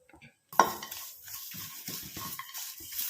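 Coconut and curry leaves frying in a pan, starting with a sharp clatter as they go in, then soft sizzling and scraping as they are stirred; fairly quiet, with no talk.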